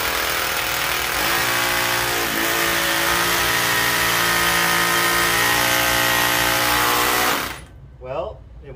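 A power drill bores into concrete for several seconds, a loud whirring grind whose pitch shifts as it bores, then cuts off abruptly into near quiet.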